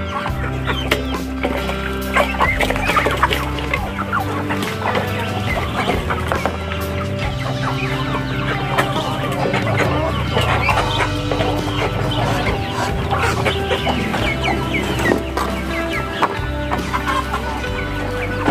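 A flock of free-range village chickens clucking loudly and continuously close by while being fed, with rooster calls mixed in amid busy feeding noise, no talking.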